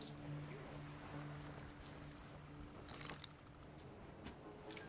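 In the video game Sea of Thieves, gentle waves and water lap around a sailing ship, with a low steady engine hum and a brief creak, heard from a moderate distance.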